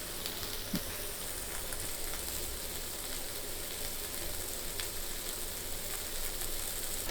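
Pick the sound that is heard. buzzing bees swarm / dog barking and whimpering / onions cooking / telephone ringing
onions cooking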